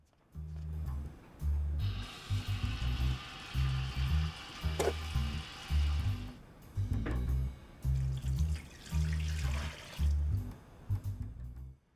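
Water runs from a tap into a cooking pot in a home kitchen as a steady hiss for several seconds, muffled under a looping low background melody.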